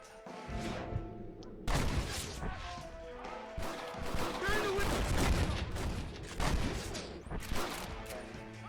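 Gunfire from a Red Dead Redemption shootout, with dense bursts of shots and crashing impacts running almost nonstop, loud and busy, while game dialogue and a streamer's voice talk over the fight.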